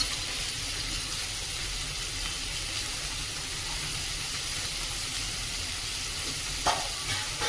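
Washed cabbage frying in a hot pan, giving a steady, even sizzle and hiss throughout with a single brief clatter near the end.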